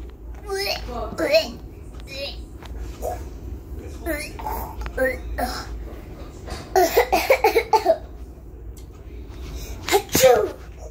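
Several sharp sneezes burst out amid children's chatter at home, loud and close, with a dog whimpering and barking faintly in between.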